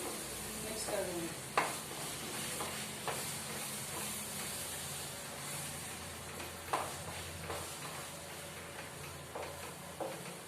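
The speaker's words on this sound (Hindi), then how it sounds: "और इसको हम अच्छे से मिक्स कर देंगे" Eggplant bharta mixture of ground eggplant is stirred in a pan, a low steady sizzle running under scattered utensil scrapes and knocks, with faint talk in the background.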